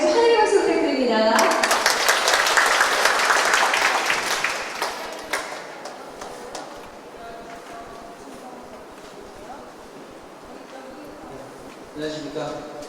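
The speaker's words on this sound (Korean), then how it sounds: "다같이 환영의 박수 부탁드립니다" An audience at an elevator accident response safety training breaks into loud welcoming applause that rises quickly, holds for several seconds, then fades out, with a voice starting to speak near the end.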